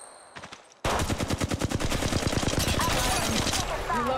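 Sustained rapid automatic fire in Apex Legends Mobile, a loud, evenly spaced stream of close shots running for several seconds after a few quieter pops.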